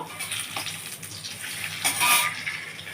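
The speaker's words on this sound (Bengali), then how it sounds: "আচ্ছা, তেল দিয়েছি। এর মধ্যে এবার আমি ফোড়নগুলো দেবো।" Bay leaves and whole spices dropped into hot oil for a tempering, giving a continuous bright sizzle and crackle with swelling bursts, close and fairly loud.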